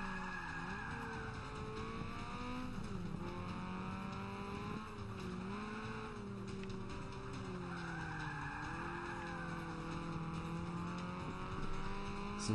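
Race car in the Forza Motorsport 5 video game, its engine droning and rising and falling in pitch through gear changes and cornering, with continuous tire squeal, steady and fairly loud throughout.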